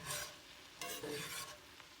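A spoon stirs black-eyed peas and cabbage in a pot on a stovetop, making a few soft scraping strokes and a faint simmer, quiet and close, with no voices.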